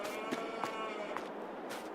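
A herd of cattle in Farming Simulator 22 on the Big Flats Texas map makes several short overlapping lows and moos in quick succession against a steady farm-animal background.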